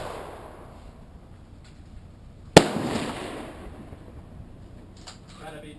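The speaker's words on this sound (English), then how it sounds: "Brian, our left target didn't have any shots on it if you want to shoot at that, the 6 ball." A single sharp, loud gunshot from an AR-15 rifle firing 5.56 military ammunition at targets on a range, ringing out briefly against quiet background noise, with faint voices nearby.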